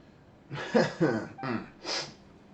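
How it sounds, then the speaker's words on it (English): A character in the video game Genshin Impact coughs in a short, close burst of four or five rough coughs, quiet and alone. "to think that laughing just a little would make me cough so much"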